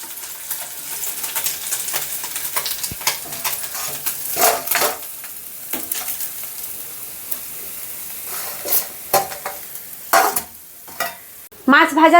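A fried fish head being stirred and lifted out of a wok in a village home kitchen, with scraping metal strokes, soft oil sizzle and scattered clinks coming in irregular bursts, close and moderately loud.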